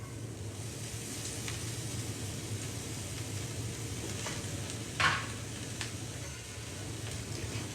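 Soy curls toasting in a hot pan give a steady, even sizzle with a brief scrape of stirring partway through, close and fairly loud with no talking.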